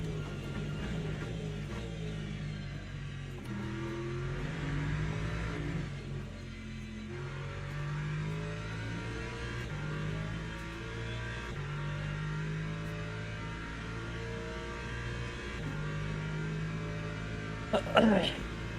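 Race car engine droning steadily through a Le Mans Ultimate endurance race, its tone rising and falling with gear changes, with someone talking over it throughout and a brief sharper burst near the end.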